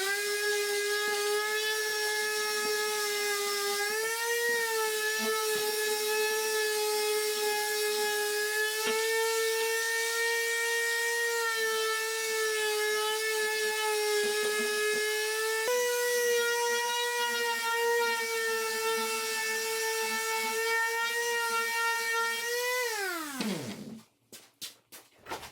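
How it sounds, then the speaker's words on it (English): A steady, loud whine of a power sander on the edges of a goat skin frame, pitch dipping slightly at times before winding down abruptly at the end; no speech. "So I'm gonna hit that with some sandpaper."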